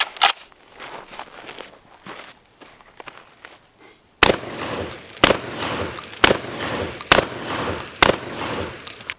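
A 12 gauge shotgun fitted with a weapon light fires about seven loud, sharp blasts at an outdoor range. They come spaced roughly a second apart after a few seconds of quieter handling noise.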